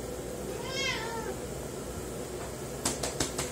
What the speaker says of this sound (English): Oh, I just stepped on my cat's tail by accident there.